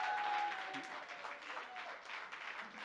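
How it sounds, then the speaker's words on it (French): A church congregation claps in praise of God during a morning service, a broad spatter of hands under a lingering tone and some voices, fading somewhat after the first half-second. "Quelqu'un peut se lever pour donner une vraie main d'acclamation à notre Dieu ce matin?"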